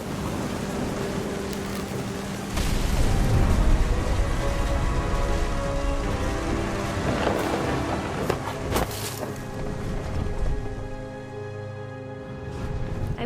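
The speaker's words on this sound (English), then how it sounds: "The thunder sounded much too close and full of angry power." Thunderstorm in What Remains of Edith Finch: dense, steady rain and rumbling roar with swelling low thunder surges, loud and continuous throughout.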